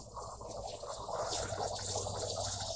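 Water splashes and gurgles on a plasma cutting table after a manual cut across a plate, a soft, close, continuous watery churn with faint low machine hum underneath.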